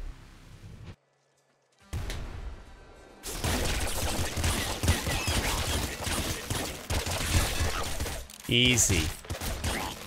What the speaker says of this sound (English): So wall shotgun just shoots like shells.